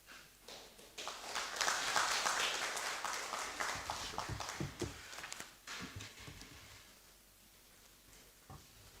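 An audience claps together at a press briefing, a broad burst of applause that swells quickly, holds steady, then thins into scattered claps and fades out.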